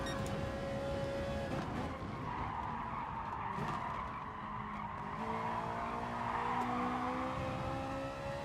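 A race car drifting in Gran Turismo Sport: continuous loud tire squeal and skidding over a droning engine, sustained throughout with rising and falling pitch as the car slides through a corner.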